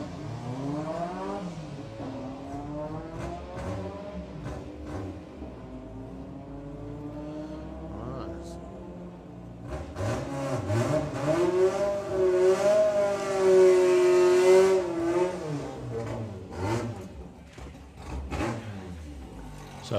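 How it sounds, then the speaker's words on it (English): Two turbocharged Volkswagen Beetles launch in a drag race at Bug Jam, engines revving hard with rising and falling whines that swell to a loud peak mid-run before fading into the distance. "So 2 turbocharged Beetles."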